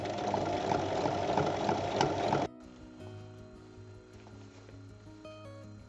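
Sewing machine stitching two pieces of fabric for a glasses case, loud and steady for about two and a half seconds, then stopping, leaving a quieter low hum with faint tonal ringing.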